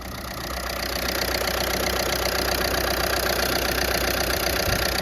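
A Volkswagen Passat engine with a low-pressure fuel delivery issue runs steadily at idle after starting up, a loud, continuous mechanical drone with a faint ticking edge and no talking.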